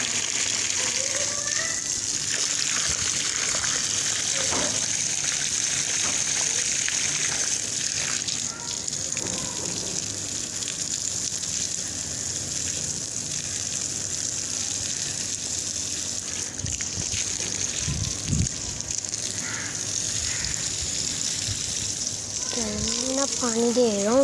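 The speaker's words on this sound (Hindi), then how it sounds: "पानी दे रहा हूँ सब पौधों को" Water gushes steadily from a hose or tap as plants in a park are watered, a continuous close rushing sound, while a person talks intermittently over it.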